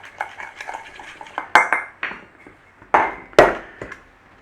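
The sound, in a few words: mixing garlic salt and seasoning in a bowl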